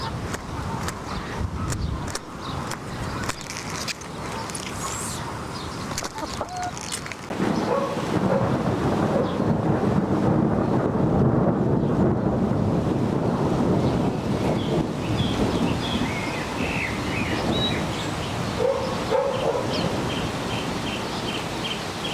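Thunder and steady rain outside, a broad continuous wash of rainfall with low rumbling, growing louder and denser partway through, with no talking.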